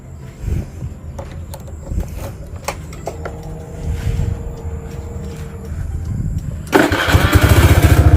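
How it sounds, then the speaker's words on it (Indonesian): A motorcycle is cranked by its starter motor over several seconds with clicks and rumbles, then the engine catches and runs loudly at a fast, steady idle close by. "Sekarang saya akan coba hidupkan motornya terlebih dahulu."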